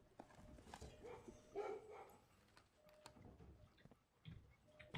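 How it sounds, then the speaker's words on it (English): A dog barks outside in the video game Blue Prince, a few sharp, fairly faint barks spread across the stretch over soft game ambience. "No, it is a dog barking outside."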